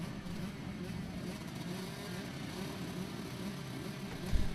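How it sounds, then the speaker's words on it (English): A pack of 125cc and 250cc motocross bikes idles and revs together on the start line at a race track, a steady, far-off mass engine drone with a small bump near the end. "Here we go then, they are revving up, getting ready."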